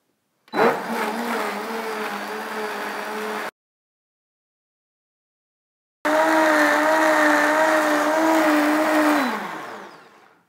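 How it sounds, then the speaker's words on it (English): A high-speed Optimum 9200A blender warming soup whirs loudly in two long bursts separated by a few seconds of silence, the second winding down at the end. "let me pop this back on high speed and use it to warm up the soup"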